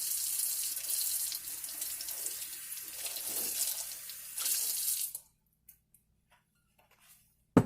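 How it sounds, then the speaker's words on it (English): A kitchen tap runs steadily into a sink while sticky hands are rinsed, a continuous close splashing wash that cuts off abruptly, leaving near silence with a few faint clicks. "I'm going to wash my hands, rinse them off because they're sticky."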